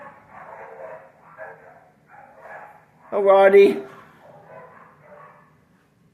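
A dog in the 1999 film Animal Farm gives one short, loud bark between stretches of quiet talking.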